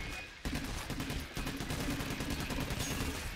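Gunfire in Payday: The Heist: near-continuous, loud automatic weapon bursts with a dense, rattling rhythm after a brief quieter opening.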